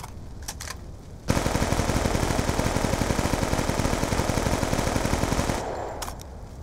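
Sustained automatic hip-fire gunfire in Black Ops 2 while drop shotting: one loud, rapid burst of evenly spaced shots lasting about four seconds, followed by a couple of fainter single shots.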